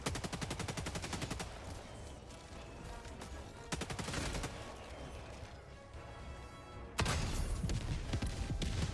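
Autocannon fire in Helldivers 2 in a snowy battlefield near a bot outpost: dense, rapid, rhythmic bursts of heavy shots that pause briefly and then resume loudly.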